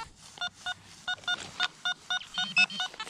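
A metal detector gives a steady series of about ten short, bright electronic beeps at an even, quick rhythm, fairly faint against light outdoor background noise.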